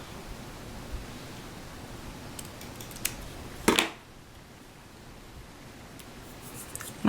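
Scissors snipping paper at a craft table: a few faint, isolated snips close by, then one louder crisp cut, with quiet rustling between them.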